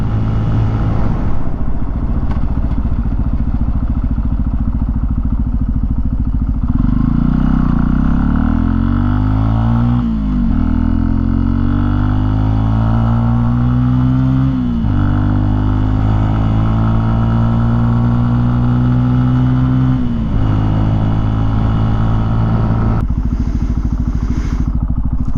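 A 2018 Benelli TNT 135 motorcycle engine under way, a close, continuous drone whose pitch climbs repeatedly through the gears and drops with each shift, with wind rush behind it and no talk.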